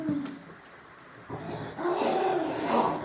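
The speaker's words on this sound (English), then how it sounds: "The dogs are starting." Dogs growl and snarl nearby, a low rumbling that builds louder toward the end, with a brief yelp early on.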